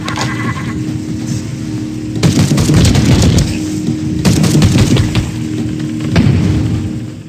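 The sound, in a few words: grenade explosion in Warhammer 40k: Battle Sister VR video game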